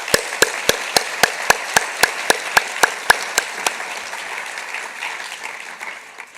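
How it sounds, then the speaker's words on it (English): Audience at a pediatrics association conference claps loudly in a steady, evenly spaced rhythm of about a dozen synchronized claps, then breaks into looser, scattered applause that fades out. "So let's give them a round of applause."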